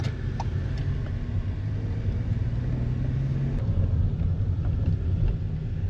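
A car drives up onto a highway near Pimpalgaon, its engine and road noise forming a steady, loud rumble heard from inside throughout, with no voices.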